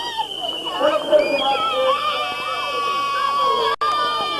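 Speedway crowd at an Elite League meeting, 1998, cheers and claps for the champion team, a dense mix of shouts, whistles and applause with high excited voices, steady and fairly loud, dipping once briefly near the end.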